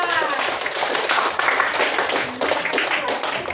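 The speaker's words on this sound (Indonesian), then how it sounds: "beri tepuk tangan untuk kelompok 4" Classroom of fifth-grade students clapping for a group, an uneven patter of many small hands at close range with bursts of chatter and voices mixed in throughout.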